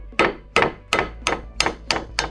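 Hammer tapping on a flathead screwdriver during a grain drill rebuild, seven sharp metallic taps in a steady rhythm, close and alone.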